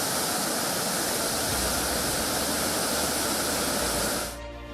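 Water released through four opened gates of the Kabini dam in Karnataka, about 30,000 cusecs, gushes in a loud, steady, dense roar that runs unbroken until it cuts off abruptly near the end.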